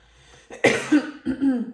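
A single short cough followed by a couple of throaty clearing sounds, close and fairly loud, in under two seconds.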